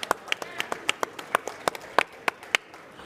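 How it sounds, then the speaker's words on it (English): Scattered, sparse clapping from a small audience at a classic car auction, about a dozen distinct claps spaced irregularly, with no speech. "A round of applause for our youngest bidder in the last couple of days, please."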